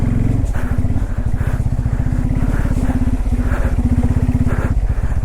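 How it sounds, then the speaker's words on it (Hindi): A Bajaj Pulsar N250 motorcycle engine thrums steadily up close in first gear while riding through thick mud, a loud, even throb with rhythmic surges and no talking. "ज़बरदस्त कीचड़ है, टायर को पकड़ ले रहा है। First gear."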